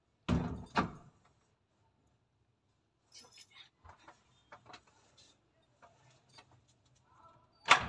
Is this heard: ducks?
no